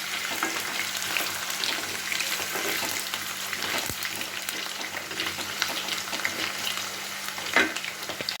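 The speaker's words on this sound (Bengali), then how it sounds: "আলুটাকে একটু ভাজতে দিয়ে দিলাম কিছুক্ষণের জন্য।" Potatoes frying in hot oil in a wok with black cumin seeds, for a Bengali bitter gourd and potato curry; a steady, close sizzle runs throughout with occasional stirring scrapes and no voices.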